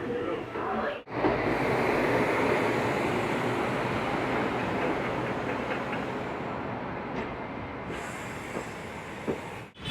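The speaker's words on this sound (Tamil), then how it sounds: "ஸோ நம்ம ட்ரெயின் கோயம்புத்தூர் ஜங்ஷன் டிபார்ட் ஆகி போயிட்டுருக்கேன்" Palakkad Town–Trichy express train pulling out of Coimbatore Junction, a steady loud rumble of wheels and carriage noise filling the clip, with a brief dropout near the start and faint squeals toward the end.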